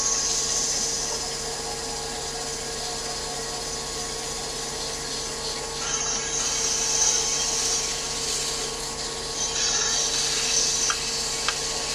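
Sanding by hand with 1200 grit sandpaper, a steady, even hiss of paper rubbing on the surface that carries on without a break at a moderate level, with no voices.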